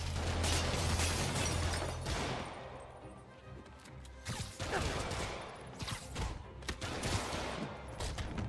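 Enemy thugs firing guns at Spider-Man in the Spider-Man Remastered game: rapid, dense bursts of gunfire and mechanical clatter over a low rumble, fairly steady throughout with a short dip midway.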